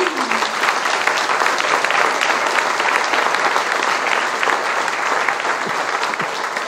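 A large audience at a French-language event bursts into loud, dense applause that holds steady and close throughout, a thick wash of many hands clapping at once.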